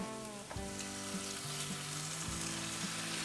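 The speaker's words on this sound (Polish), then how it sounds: "I teraz wrzucamy tu naszą wątróbkę" Liver dropped into a hot frying pan, setting off a steady, close crackling sizzle with a few soft clinks as pieces land, continuing without any talk.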